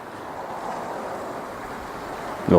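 Ocean waves wash in a steady, broad rush near the Spanish village of Liafranc, continuous and moderately loud, with a sharper splash near the end.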